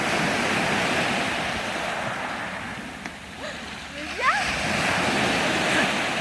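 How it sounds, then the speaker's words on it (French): Ocean waves at a beach on a summer day, a steady wash of surf and wind noise with a swell rising near the end, while a few short voices call out faintly in the background. "Attention, il y en a une vague."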